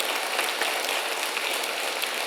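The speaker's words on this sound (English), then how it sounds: "let's give them a big round of applause" Steady round of applause from an audience at the annual State of the Municipality address with Mayor Mike Savage, an even wash of many hands clapping at moderate distance without pause.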